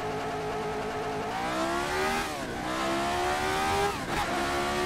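An RSS Formula 79 race car in a racing video game screams around the Vallelunga circuit, its engine note climbing steadily through the revs, dipping briefly at gear shifts and rising again, loud and continuous.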